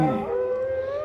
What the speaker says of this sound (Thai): เสียงหมาหอนดังขึ้น